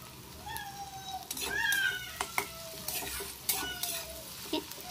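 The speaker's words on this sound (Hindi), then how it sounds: "फ्लेम को अभी थोड़ा सा हाई करेंगे और इसको एक बार और अच्छा से सोटे कर लेंगे।" Rugra wild mushrooms sautéing in a pan over a high flame give a steady close sizzle broken by scraping stir strokes, while intermittent rising meow-like cries, likely a cat, sound over the cooking.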